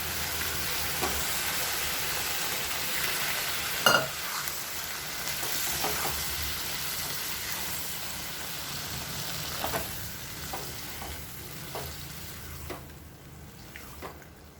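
Black chickpea curry with mashed tomato simmering in a pan, a steady low bubbling and sizzle running throughout, with a few soft clicks and one sharper knock near the start.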